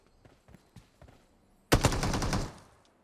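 A burst of automatic gunfire in the PUBG Mobile video game, loud and sustained for under a second, following a few faint distant shots.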